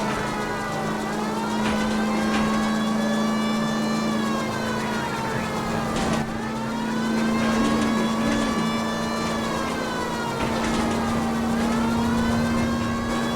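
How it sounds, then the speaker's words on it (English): An unhealthy car engine drives in the video game LA Noire, a loud, continuous whining roar whose pitch rises and falls with the throttle, close and unbroken, with no talk. "This car does not sound healthy."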